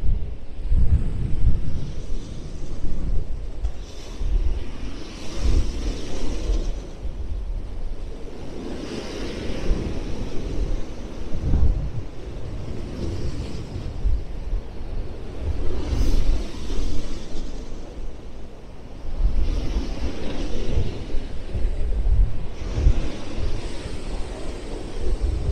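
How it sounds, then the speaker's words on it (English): Storm-driven waves and strong wind roar along the Blackpool seafront during Storm Barra in December, a continuous loud rush with repeated surges and heavy gusts buffeting the microphone, and no voices. "Look at these waves."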